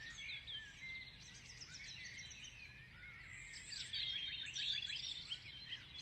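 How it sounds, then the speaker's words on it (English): Several birds chirp and warble at once outdoors, a busy overlapping chorus at moderate distance with no voices. "try and visualize and distinguish the birds that you hear."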